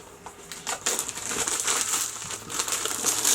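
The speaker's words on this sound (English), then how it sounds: "I'm going to take the plastic off." Plastic wrapping is pulled and crinkled off a Cricut Joy box, producing close, irregular crackling and rustling bursts throughout.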